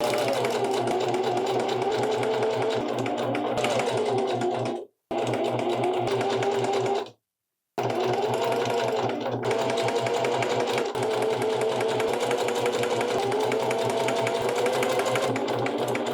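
A sewing machine runs a half-inch seam on Lane Pants, a steady loud mechanical whir with two brief stops before stitching resumes and continues to the end.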